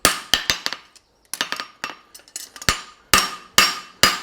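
A hammer strikes a hot horseshoe on an anvil while its inside edge is forged thin, a series of loud, sharp metallic blows in irregular clusters with brief ringing decay and short pauses between.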